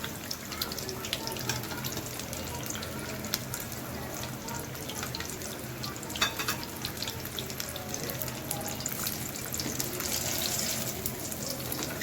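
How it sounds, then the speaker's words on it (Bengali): Bitter gourd (kakrol) slices coated in batter frying crisp in hot oil, a steady dense crackling sizzle that holds evenly for the whole stretch with no talking. "এবার লাল করে মুচমুচে করে ভেজে তুলে নিব।"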